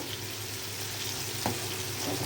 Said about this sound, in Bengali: এই যে দুধটা বলক আসতেছে